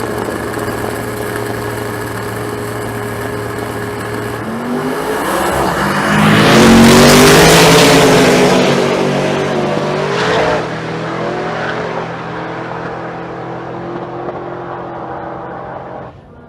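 A drag race car with a naturally aspirated 540 big block Chevrolet engine idles loudly, then roars through a hard launch and passes nearby, its pitch sweeping as the roar peaks and then fades back toward a steady idle.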